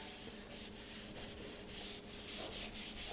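Microfiber applicator rubbing trim restorer onto faded plastic trim of a work truck, a steady, close scrubbing hiss in repeated strokes throughout.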